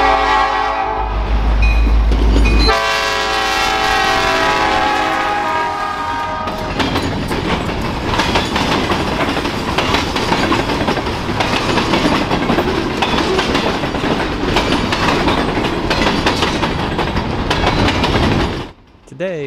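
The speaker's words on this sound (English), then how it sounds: "we have found the Ann Arbor Railroad train RS-102 coming south at Pittsfield Junction. Leading the 73-car train is GP40-2 HLCX" Ann Arbor Railroad freight train of 73 cars led by GP40-2 diesel locomotive passing Pittsfield Junction, Michigan: a loud sustained horn blast, then the close rumble and rhythmic clatter of wheels and cars rolling by, fading at the end.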